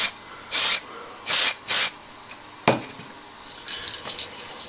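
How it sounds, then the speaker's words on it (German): Spray paint can hissing in short, loud bursts while branches for model deciduous trees are colored: three clear blasts, then a brief sharp spurt and faint clatter. "die Sprühdosen auf den Kopf stellen und aussprühen"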